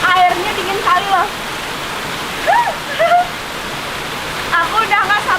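The Jagasatru waterfall and water spout in Bali make a constant rushing roar, while voices talk intermittently over the falling water.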